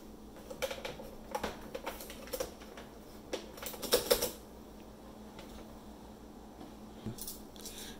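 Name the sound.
keycaps being pressed back onto mechanical keyboard with Alps switches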